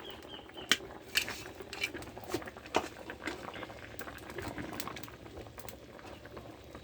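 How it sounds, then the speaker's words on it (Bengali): A fish curry with taro root bubbles at a steady boil in a pot, giving a busy, quiet simmer of bursting bubbles with a few sharper pops. "দেখেন 2 মিনিট পরে ফুটে উঠেছে তরকারি"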